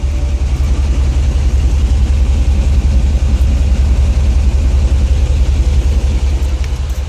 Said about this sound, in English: Let you listen to what the exhaust sounds like.